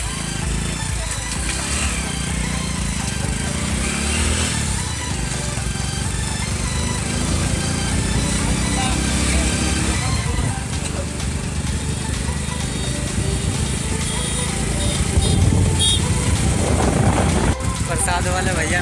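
Motorcycle riding up a sloping road toward the Mansa Devi temple in Haridwar, its engine droning steadily throughout, close and fairly loud, mixed with wind noise and occasional talk.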